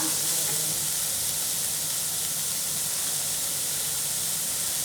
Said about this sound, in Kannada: ಇದು ಸ್ವಲ್ಪ ಚೆನ್ನಾಗಿ ಹಿಂಗೇ ಫ್ರೈ ಆಗಬೇಕು